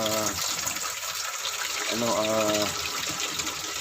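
Water runs steadily from a tap in a continuous gush, close and fairly loud, rinsing mud off oysters, with a voice briefly audible underneath.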